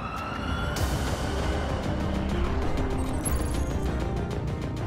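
A Lotus Evija electric hypercar prototype in track mode, rated at 2,000 PS, accelerates hard. A thin electric whine rises in pitch beneath a heavy, constant rush of wind and road noise.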